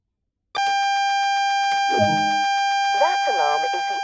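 A continuous electronic alarm tone sounds in a train cab in Train Sim World, the AWS self-test warning, loud and close, holding steady for several seconds while a voice speaks over it.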